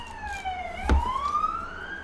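A distant police siren wails outside, its pitch dipping then climbing again as it passes, with a soft thump midway and low background hum.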